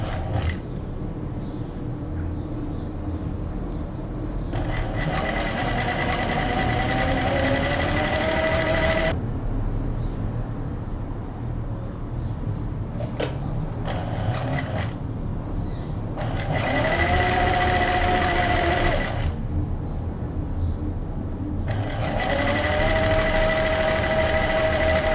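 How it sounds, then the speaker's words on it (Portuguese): Sewing machine stitching a seam on fabric for a fish-shaped backpack, running in three or four steady bursts of several seconds each with pauses between, close and fairly loud over a constant background hum. "E vou passar uma costurinha. Pode ser um meio pé de máquina."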